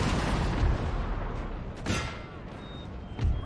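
Cannon artillery booming on a Napoleon: Total War battlefield, a few heavy thuds rolling over a constant rumble of battle noise, mid-distance and moderately loud.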